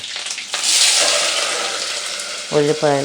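Chana dal, urad dal and curry leaves hit hot tempering oil, setting off a loud, steady crackling sizzle, followed near the end by a couple of short tonal clanks of a utensil.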